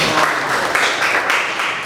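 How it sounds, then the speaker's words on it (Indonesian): Students in a vocational high school classroom burst into brief, dense applause during a teaching-practice lesson, clapping close and lively for a couple of seconds. "Tepuk tangan."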